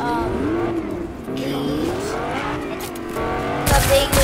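A car in the video game Fortnite drives with a loud, steady engine hum and shifting revs, tire noise and game effects growing busier near the end, under overlapping talk from players.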